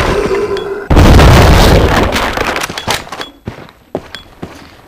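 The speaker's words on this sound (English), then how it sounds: "if you're gonna use a shotgun on a zombie, aim for the head" A shotgun blasts at zombies in Resident Evil Zero: one loud, close boom that rings out and decays, followed by a few softer thuds and clanks.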